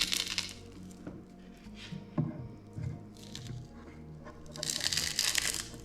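Smartphone glass crunching and cracking during a repair with a hair dryer and putty knife, heard as close, gritty crushing and crackling with bursts of crisp crackle at the start and end.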